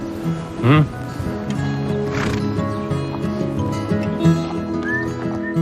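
Horses at the Hampton Court stables, with one loud nearby neigh and another fainter whinny plus some clip-clop of hooves, all under steady talk and background music.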